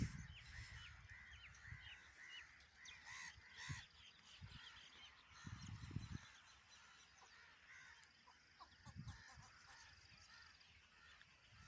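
A flock of waterfowl calls continuously, with many overlapping honking and quacking cries at moderate distance and low thumps and rustles nearby.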